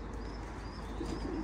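Pet ornamental birds in an aviary give soft, low cooing calls, faint and steady against a quiet background, with a few higher chirps mixed in.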